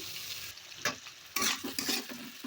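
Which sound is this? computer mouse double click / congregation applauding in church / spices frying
spices frying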